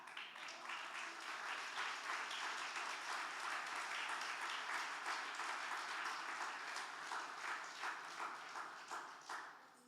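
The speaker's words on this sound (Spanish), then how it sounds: "Denle un aplauso a Cristo" A church congregation applauds during a sermon, a continuous, rather faint and distant patter of many clapping hands that holds for about ten seconds and then tapers off.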